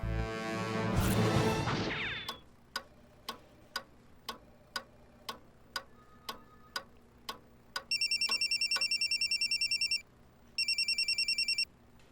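A sharp burst of noise, then a steady series of clock-like ticks, followed by two bursts of an electronic telephone ring with a short gap between.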